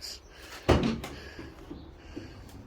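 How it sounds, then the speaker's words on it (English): The rear barn door of a Mercedes Sprinter van with a 144-inch wheelbase lands with a single solid, close clunk as it locks in place, followed by a few faint knocks and rattles. "Got these two big barn doors, which are excellent, and they lock in place like that"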